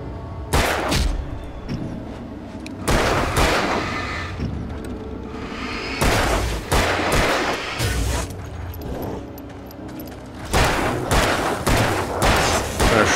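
Gunfire in the video game Alan Wake comes in repeated loud bursts of shots and booming reports separated by short lulls, aggressive and close, with a musical or ambient bed running underneath.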